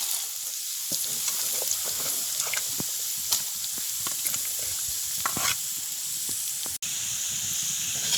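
Carrots tossed into hot vegetable oil in a frying pan set off a steady, close sizzling hiss, with scattered pops and crackles running throughout.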